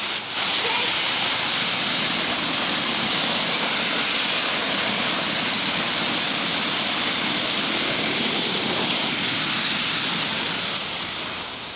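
A hot water hose spraying down a packable backpack, a loud, steady, close hiss of rushing water that holds unbroken from start to finish.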